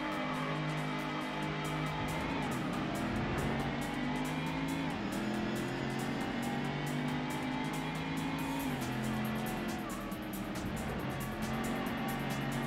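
Ford Mustang race car engines roar steadily in Ford Racing, a loud, constant near-field drone with pitch rising and dropping through gear shifts, plus a faint whine of other cars around.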